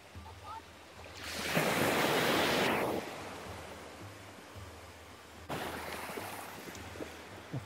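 Sea waves break and wash up on a sandy shore where people are paddling. One loud surge swells and fades, then a second breaker rushes in over a steady wash of surf and wind.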